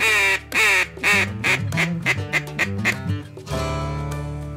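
Loud, close duck quacks during a duck hunt, a rapid run of nasal calls in an irregular chattering rhythm, ending in a sustained buzzy call that carries to the end.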